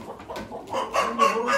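A rooster crows nearby at a livestock auction, a strained drawn-out call rising in pitch over a second or so, with faint clucking and background murmur before it.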